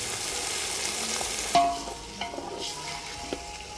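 Peanuts and peas tip into a pan of hot oil with a burst of sizzling, then frying continues under scraping, clinking stirring strokes while cooking alu fadfade, a Konkani colocasia dish, with no talk.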